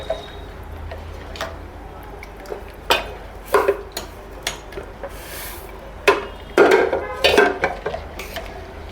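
A spoon stirs sugar into a pot of khoa sweet, clinking and scraping against the metal in irregular bursts, loud and close, with quieter stretches between strokes.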